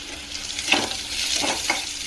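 Seven or eight cashews sautéing in a pan with chillies for a restaurant-style methi matar dish, a close, steady sizzle with a few stirring scrapes and no talking.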